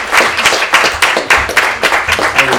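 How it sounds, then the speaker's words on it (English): An evening audience applauding two guests, Emma and David, a close, loud burst of many hands clapping in uneven rhythm that swells and dips over a few seconds. "please give Emma and David a massive round of applause"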